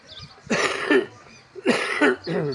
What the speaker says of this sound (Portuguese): Desculpe aqui pela parada para tosse.